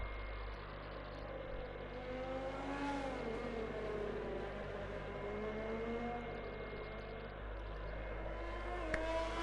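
A race car in a racing video game laps the Austin circuit, its engine droning steadily with rising and falling pitch through gear changes, continuous and fairly close throughout, with no talk over it.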